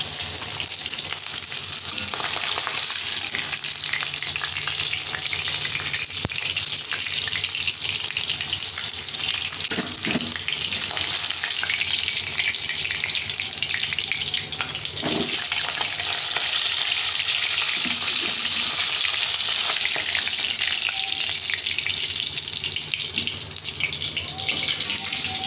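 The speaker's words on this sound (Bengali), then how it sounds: "এখানে আমার মাছের মাথাটা ভাজা হয়ে গেছে" A fish head frying in oil in a wok gives a continuous hiss and sizzle, mixed with running water from a tap and a few sharp clanks of a utensil, steady throughout with no talk.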